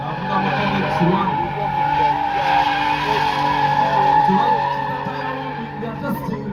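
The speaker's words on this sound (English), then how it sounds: "Wide drifting." A car drifts at an East African auto show, tires skidding and squealing continuously under a loud engine roar, with crowd noise and voices mixed in throughout.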